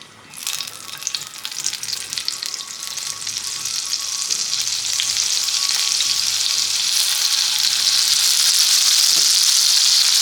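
Butter and white oil sizzling in a hot pan for an egg curry, a steady close frying hiss that swells louder and brighter as it goes on, with no talk.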